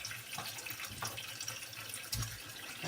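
Tap water runs steadily into a sink as tomatoes and peppers are washed for tomato and pepper sauce, a soft continuous splashing with a few louder splashes.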